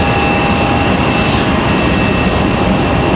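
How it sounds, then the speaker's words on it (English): A Boeing 747 jet departing from Raleigh-Durham airport, a loud, steady broadband engine roar with a sustained whine, heard alone without talk. "747 departure here."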